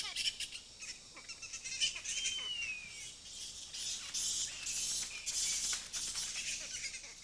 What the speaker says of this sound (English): They encounter a colony of fruit bats roosting in a giant tamarind tree.